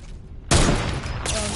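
Loud bursts of gunfire in Fortnite's Floor is Lava limited-time mode, two sharp blasts close together, the first heavier and the second following about three-quarters of a second later, with no talk over them.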